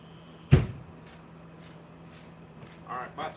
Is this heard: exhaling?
no